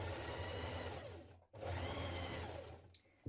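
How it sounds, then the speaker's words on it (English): Sewing machine top stitching a seam on a jumpsuit, a steady close mechanical whir in two runs split by a short stop, quiet and without voices. "you're going to top stitch close to that seam"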